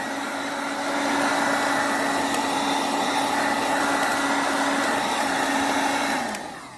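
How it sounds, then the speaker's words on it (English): A heat gun blows hot air to dry out a window crack: a steady, loud whooshing drone with a faint whine, running continuously at close range before dropping off as it shuts down. "what I used was a heat gun to dry it out"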